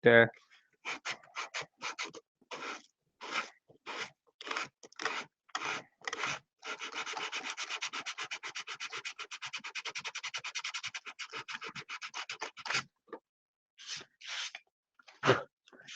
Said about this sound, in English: Head cam sanding.